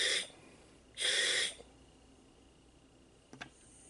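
Breaths drawn through a Scubapro 109 regulator second stage: two hissing inhalation bursts, one short and one longer, then quiet with a faint click near the end.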